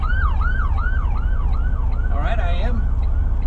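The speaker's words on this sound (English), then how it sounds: "got an ambulance coming up here." An ambulance siren wails from a truck cab on a California road, a repeating rising-and-falling tone over a loud low engine rumble, with a brief overlapping yelp as a driver speaks.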